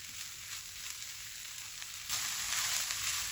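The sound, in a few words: green chilies cooking in a pan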